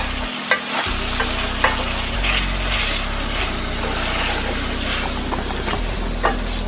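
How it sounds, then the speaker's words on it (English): Seasoned Cajun pasta sauce stirred in a pan over a loud, continuous sizzle with a low background hum, punctuated by a few light scrapes and clinks of the spoon against the pan. "I'll just give this a nice stir."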